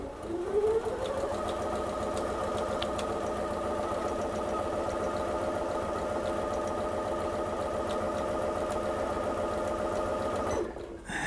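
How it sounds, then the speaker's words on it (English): A Janome 9850 computerized sewing machine runs a continuous line of stitches, spinning up quickly and then holding a steady, rapid mechanical whir and needle clatter for about ten seconds before stopping abruptly, up close and fairly quiet. "I just want to run some stitches"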